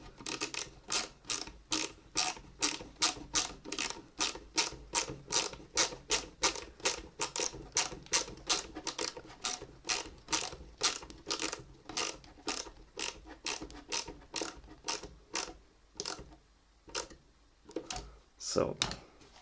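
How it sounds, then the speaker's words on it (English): A ratchet tightens the bolts on an AK-74N airsoft rifle's polymer buttstock with rapid, even clicks in quick bursts that slow and thin out toward the end, close up and fairly quiet. "both bolts are now tightened, and this buttstock is absolutely without any play"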